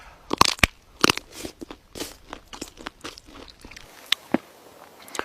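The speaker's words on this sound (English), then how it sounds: "There's a frozen woodland snail. Still got the shell on. Extra crunch." Crunching a frozen woodland snail with its shell still on, bitten close up outdoors as a bushcraft snack: a run of sharp, loud cracks and crunches in irregular bursts, with no talking.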